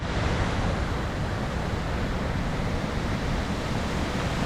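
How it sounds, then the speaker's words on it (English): Indian Flats Falls in heavy flow, a loud, steady roar of rushing water filling the whole scene without a break and without voices. "I just can't believe the amount of water that's coming down through here."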